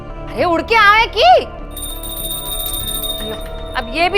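An electronic telephone-style ringing tone, steady high pitched trill running for a couple of seconds between stretches of voices talking nearby.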